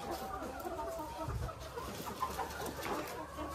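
Layer hens in a farm house cluck softly and sporadically, faint and somewhat distant over a low background hum.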